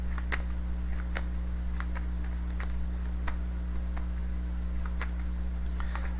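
Tarot cards being shuffled at a reading, with crisp, irregular riffling taps and snaps spread sparsely over a steady low electrical hum, fairly quiet and close.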